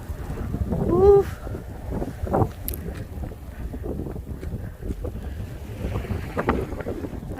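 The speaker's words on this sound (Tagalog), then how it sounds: "Sobrang lakas ng hangin, no?" Strong wind from a snowstorm in Montreal roars and buffets the microphone in rough, uneven gusts, loud and continuous, with a few scuffing sounds beneath it.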